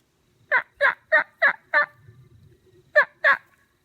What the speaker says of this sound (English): Did you see the turkey?